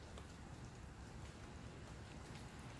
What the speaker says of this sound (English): It is raining too, just so y'all know.